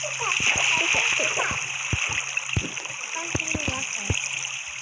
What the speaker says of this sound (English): We make splashes like this.